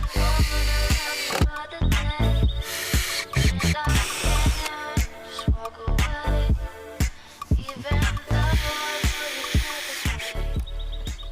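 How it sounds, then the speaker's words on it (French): Power drill pre-drilling pilot holes in wood before screwing during furniture assembly in a renovated old farmhouse, with repeated short whirring bursts and trigger stops close by, some clattering between runs. "Avant de visser, on va préforer, hein?"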